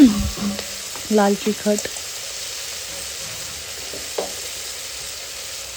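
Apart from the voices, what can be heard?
spices frying with potatoes in a pan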